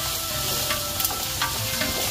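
Onions and carrots frying together in a pan, a steady close sizzle with a few light clicks and stirring scrapes and no talk.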